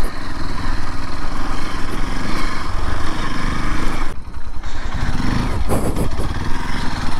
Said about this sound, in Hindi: ऑफ रोडर बाइक की मजे ही चल रहे हैं आज तो।